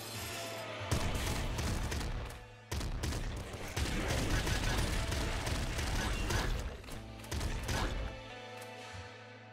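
Rapid, dense bursts of blood weapon fire in the Nuclear Throne Ultra Mod video game, loud and nearly continuous with brief gaps, mixed with mechanical clacking game effects.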